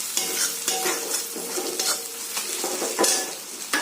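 Bay leaves, crushed cardamom, cloves and a piece of cinnamon crackle in hot oil for a chicken curry, a loud, close, continuous sizzle with bursts of spatter and the scrape and clink of a spoon stirring through the pan.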